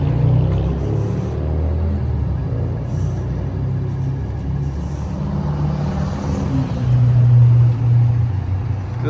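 A 2024 Ford F-250 King Ranch Tremor diesel pickup in cool gray runs steadily with a deep, continuous engine rumble, close and fairly loud, swelling slightly near the end, with no talk.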